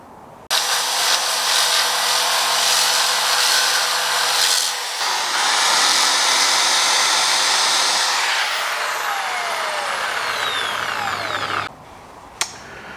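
A motor part being sanded for extra grip, heard as a loud, steady abrasive whir and grind that shifts pitch midway, then stops, followed by a faint hum and a sharp click near the end.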